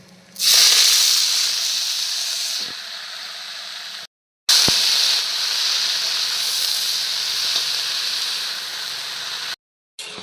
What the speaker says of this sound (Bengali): এবার ধুয়ে রাখা শাকটা ঢেলে দেবো